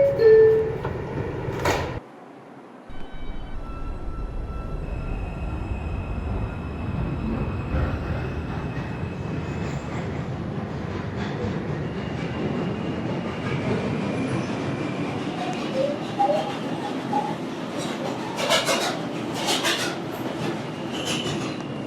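A Woodlawn-bound 4 train on the New York subway rumbles loudly and steadily between stations, with clattering wheels and rising metallic squeals from the rails.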